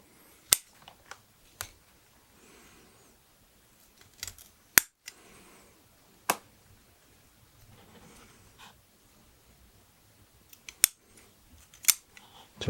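Sharp scissors snip off the roots hanging down from a young bonsai grown from a cutting in a pot, giving several crisp, close cuts spaced irregularly with quiet pauses between.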